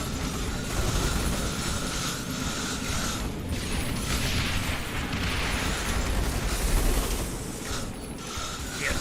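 Mortar tower explosions in the video game Rogue Tower: repeated muffled bursts and mechanical clanks running steadily over a dense, noisy background.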